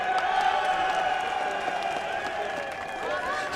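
A crowd at Silverstone cheers and applauds Cal Crutchlow on the 2016 British Grand Prix MotoGP podium, a broad sustained roar of clapping and cheers under faint tonal sound.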